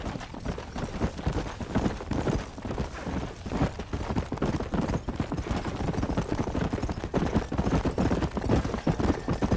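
Several horses gallop in the Red Dead Redemption video game, a dense, continuous run of hoofbeats with busy clatter that stays loud and steady throughout, without speech.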